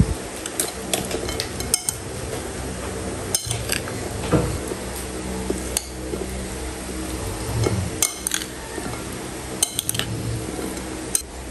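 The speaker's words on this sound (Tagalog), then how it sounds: "Lalagay na rin po natin itong ating inihaw na liempo. Yan, at atin na pong hahaluin." Pork sinuglaw with grilled liempo being mixed in a bowl, producing repeated clinks and scraping knocks of a utensil against the dish, moderately close, with no talking.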